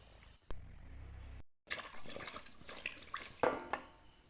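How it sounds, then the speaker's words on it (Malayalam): Running water splashes softly as scraped ginger is rinsed and handled beneath it, with brief gurgles and a short pause midway, fairly quiet and close. "ഒന്നുകൂടെ വെള്ളത്തിലിട്ട് കഴുകിയെടുക്കണം"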